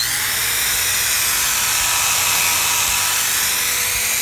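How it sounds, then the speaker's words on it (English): Electric drill spinning a buffing brush to polish a Briwax wax finish on old wood, a steady high-pitched whirring hum that stays loud and constant throughout with no talking. "I'm just letting the sort of weight of the drill apply the pressure"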